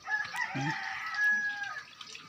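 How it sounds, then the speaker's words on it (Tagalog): A rooster crows in a long drawn-out call, with three hens clucking softly nearby and some faint outdoor background noise. "Tatlong inahin. Isang barako."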